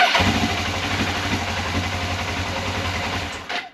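A Suzuki GS500 motorcycle engine, fresh from new plugs and an air filter, fires up and settles into a steady, even idle with no misfire, close and loud, alone until it cuts off near the end.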